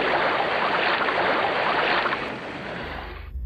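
Waves lapping a shore, a steady broad wash of surf that stays level, then cuts off abruptly near the end.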